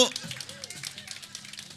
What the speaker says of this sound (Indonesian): Tepuk tangan ibu-ibu